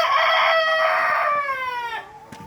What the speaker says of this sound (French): il y a 4 coqs et 4 poules sur les 8